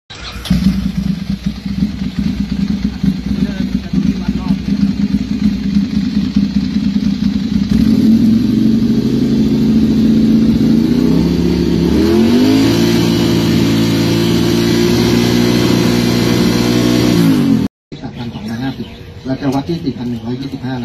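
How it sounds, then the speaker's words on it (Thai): Motorcycle with a loud aftermarket exhaust pipe revs hard during a roadside noise-level check, the engine note rising and holding steady before cutting off abruptly near the end, with voices talking over it. "ตรวจวัดระดับความดังของเสียงท่อไอเสียรถจักรยานยนต์"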